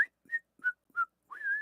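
A person whistles a short series of clear, close notes with brief gaps between them, finishing on a longer sustained tone.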